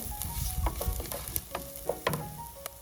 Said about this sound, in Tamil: இப்போ சில்லி ஃப்ளேக்ஸ் போட்டு ஒரு கிளறிட்டு